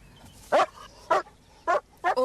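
A white dog barks four times in a short, evenly spaced series, each bark sharp and fairly close, with no other sound around it.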